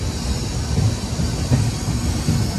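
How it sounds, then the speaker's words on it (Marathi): A Janshatabdi Express passenger train departing Chiplun station rumbles steadily along the tracks with a rhythmic clatter of wheels, heard from inside or close to the carriages. "ट्रेन आता चिपळूणवरून निघालेली आहे"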